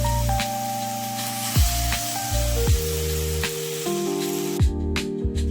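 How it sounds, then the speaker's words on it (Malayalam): Water poured into a hot pan of anchovy thoran with tamarind: a steady hissing sizzle and spray running under loud background music, with no talking. "ഇനി ആവശ്യത്തിന് വെള്ളം ഒഴിക്കുക"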